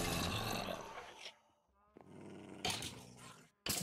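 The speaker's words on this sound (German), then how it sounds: "Ja, so ein feiner Hundi." Low, rough growling from a dog in the video game Minecraft rumbles loudly for over a second, then fades, followed by bursts of noisy game sounds with no talk.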